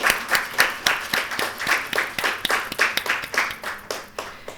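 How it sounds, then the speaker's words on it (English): Rhythmic clapping at an inspiration talk for medical and dental students, with distinct sharp claps landing in a regular beat, fairly close and moderately loud, with no voices over it. "A huge round of applause to all of them."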